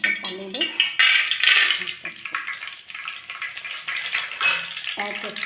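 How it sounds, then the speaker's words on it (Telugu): Peanuts fry in oil in a kadai with a close, crackling sizzle that rises and falls in bursts, with light stirring clatter underneath. "కళాయిలో కొంచెం ఆయిల్ తీసుకొని దీంట్లో కొంచెం పల్లీలు"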